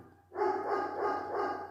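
A dog barks in a few close, loud bursts that continue steadily after a short quiet start, with no talking over it.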